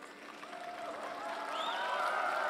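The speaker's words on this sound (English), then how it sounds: "this Mongolian crowd shows their approval with the step out point" Mongolian crowd at a freestyle 65 kg wrestling bronze bout clapping and cheering after a step-out point, a steady roar of applause swelling slightly louder toward the end, with faint whistle-like cries above it.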